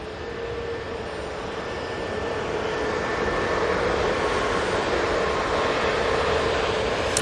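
An Airbus Neo jet departs Manchester Airport for Funchal, engine roar swelling gradually louder with a thin steady whine running through it, no voices.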